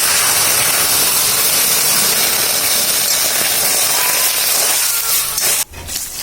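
Water hits fried mung dal in a hot cooking pot and sets off a loud, sustained sizzling hiss close by. The hiss stays strong for several seconds, then a brief clunk comes near the end.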